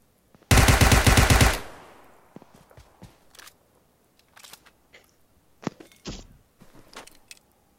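In PUBG Mobile, a loud, rapid burst of automatic gunfire rattles for about a second, then fades into scattered quieter clicks and footsteps.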